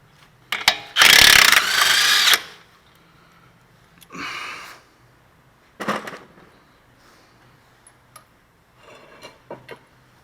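A wrench turns splined bolts on a front bearing assembly, with a loud burst of ratcheting followed by scattered shorter ratchet clicks and metallic taps separated by quiet gaps.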